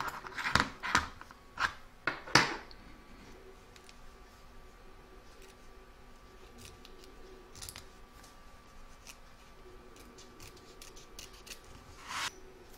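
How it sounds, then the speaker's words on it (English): Scissors snip through excess fabric around an embroidered heart, a quick run of close, crisp cuts early on, then quieter scattered snips and handling noise with one last cut near the end. "We're now going to trim away all the excess fabric from around the heart"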